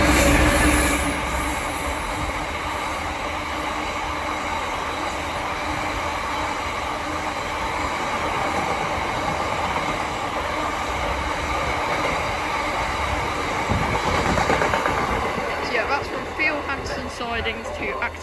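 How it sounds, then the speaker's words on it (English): A Freightliner Class 66 diesel freight train passes at Slough on the Great Western Main Line, a loud continuous rumble of engine and wagons with wheel squeal and rhythmic clatter, a voice talking over it. "We're about to have a Freightliner class 66 pass by from Hansen Ags to Acton line reception sidings"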